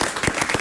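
Short burst of audience applause for a segment host, thanked alongside the mayor during a regional TV outings programme. A few distinct claps stand out over a brief, moderately loud patter.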